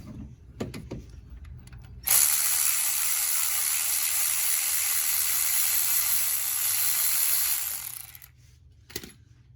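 Cordless ratchet with a long deep 14 mm socket spinning a bolt loose on the alternator of a 2008 Hyundai Veracruz V6, a loud continuous whirring buzz of about six seconds after a few light clicks, then trailing off.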